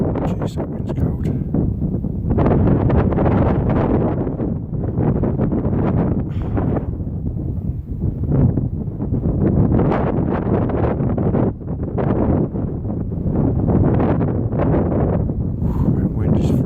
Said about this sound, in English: That wind is freezing.